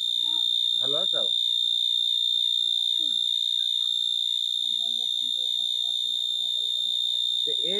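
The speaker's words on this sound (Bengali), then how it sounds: "এই যে ডাকতেছে, পাছা পাছা উপর মুখ দিছে আর মাটির ভিতরে মাথা দিয়ে ডাকতে, তাই এত সাউন্ড।" A cricket calling with its head pushed into the ground gives a loud, unbroken high-pitched trill for the whole stretch, while people talk briefly nearby.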